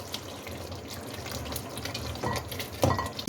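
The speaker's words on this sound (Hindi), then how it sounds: "इसे मिक्स कर लें।" Chicken curry stirred in a pan with a spoon, soft wet scraping and sloshing under steady background noise, with a couple of sharper clinks near the end.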